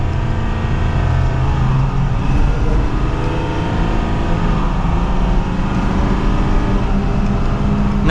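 A Ford F250 Megaraptor Lariat Ultimate pickup accelerates hard from second gear in manual mode on a test drive, its engine droning loudly and steadily with road and cabin rumble throughout.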